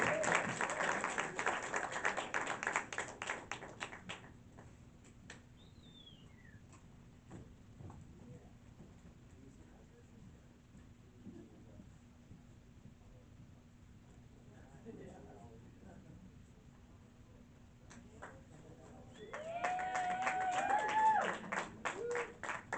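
An audience at The Guild claps loudly at the start, goes quiet with murmuring in the middle, then breaks into another burst of applause and cheering near the end, with a person speaking between.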